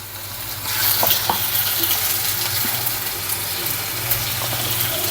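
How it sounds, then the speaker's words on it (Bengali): Onion, garlic and onion paste fry in a pan as the base for a Bengali fish curry, giving a steady close hiss of sizzling oil that begins after a quiet start, with a few soft stirring clinks. "এই যে মাছ তরকারি কষায় রান্না করব তার জন্য এখানে দিয়ে দিচ্ছি পেঁয়াজ আর দিয়ে দিচ্ছি এখন রসুন আর পেঁয়াজ বাটা"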